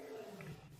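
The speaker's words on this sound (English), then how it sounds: "Lion roaring." A lion roar sound effect from an RPG mystery video game, a short, very faint, rough rumbling growl lasting under a second, heard alone.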